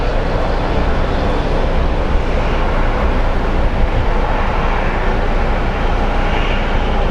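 An Airbus A220 (CS series) airliner at Sky Harbor airport produces a steady, broad jet roar that stays constant and fairly loud throughout, with no talking.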